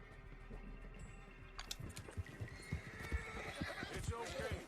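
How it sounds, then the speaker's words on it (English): A video-game horse whinnies and snorts amid a dense run of hoofbeats and clip-clops, moderately close, with occasional soft sounds in the background. "what do I have for the horsey?"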